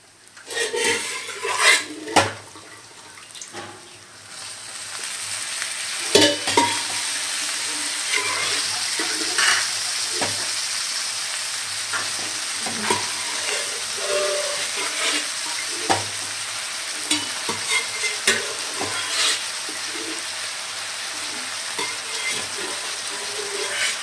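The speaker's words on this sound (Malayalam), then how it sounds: "ഇനി നമുക്ക് ഈ കൂന്തലയിലേക്ക് ഇട്ട് കൊടുക്കാം കേട്ടോ" Squid roast stirred in a frying pan, a steady sizzle under scraping spoon strokes and occasional knocks against the pan, close and continuous throughout.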